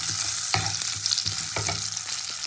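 Turmeric-coated potatoes frying in hot oil for a singhi fish curry, a continuous close hiss and crackle punctuated by a few knocks of a spatula stirring in the pan.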